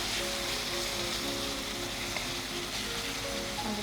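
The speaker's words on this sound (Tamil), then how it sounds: "வடகம், தக்காளி, பூண்டு, வெங்காயம், கருவேப்பிலை எல்லாம் போட்டு நல்ல மணமா இருக்கான்ட்டு நல்லா எல்லாம் வதங்கி ஒண்ணா வரணும்" Vadagam, tomato, garlic, onion and curry leaves frying in a pan give a steady, even sizzle that carries on throughout without pause, with no voices heard over it.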